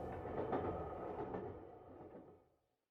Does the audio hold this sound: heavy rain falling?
no